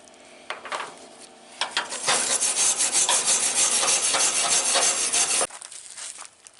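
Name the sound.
scraping paint off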